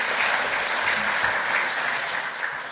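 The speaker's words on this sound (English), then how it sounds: "let's give them a round of applause" A roomful of attendees at a business breakfast applauds steadily, the dense clapping continuing evenly throughout.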